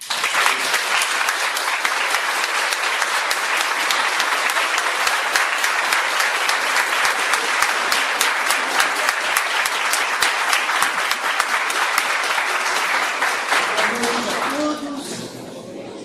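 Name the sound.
applause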